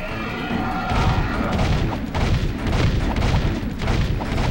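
Semi-automatic gunfire in the Jak 2 video game, a run of heavy booming shots with crashing impacts, loud and close, fired in quick succession.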